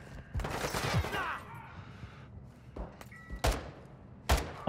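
Gunfire rings out in the DMZ video game, with a burst of rapid shots followed by several separate loud cracks spaced a second or so apart, some close and some more distant.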